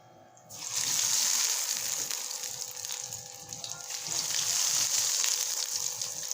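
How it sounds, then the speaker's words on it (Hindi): Breadcrumb-coated aloo tikki frying in hot oil, a steady close sizzle that swells and holds with crackling throughout. "इसी तरह अब हम कुछ टिक्कियों को ब्रेड क्रम्ब लगा के फ्राई करेंगे।"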